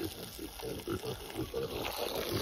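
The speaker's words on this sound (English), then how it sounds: "Pigs don't care how they get the water as long as they get water." Pigs on a homestead grunt and oink in short, repeated bursts while drinking water, close and moderately loud over a faint watery background.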